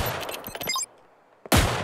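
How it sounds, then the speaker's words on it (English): Gunfire in the spy shooter Deceive Inc: a rapid burst of close shots, a brief lull, then another sudden loud volley. "gunshots! Terror and stuff!"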